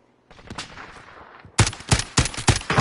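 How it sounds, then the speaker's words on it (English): Sniper rifle fire in the video game Call of Duty Warzone: a few distant shots at first, then a rapid series of loud, sharp cracks ringing out one after another with no talk over them. "Oh, I'm getting sniped."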